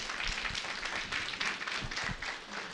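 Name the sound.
congregation applauding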